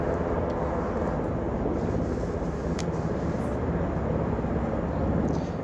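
Steady, loud broadband rotor and engine roar of a helicopter landing in a no-fly zone near the Blue House in Seoul, heard continuously from outdoors without pause.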